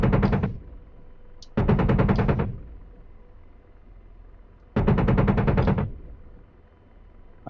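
Rapid automatic gunfire from the DCS World combat game comes in three long, loud bursts, each a dense rattling stream of shots, separated by quieter stretches of engine drone.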